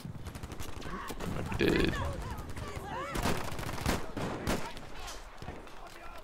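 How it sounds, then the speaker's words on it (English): Machine gun fire in Battlefield V rattles in scattered bursts amid a noisy battlefield mix, with a few louder cracks nearby and someone speaking briefly over it. "There's a machine gunner up close"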